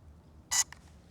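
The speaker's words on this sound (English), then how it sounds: "On the drone, you would hold down the button until it starts beeping." A drone gives a single short, sharp electronic beep while its pairing button is held down, sounding close and clear over a quiet background with a faint second chirp just after.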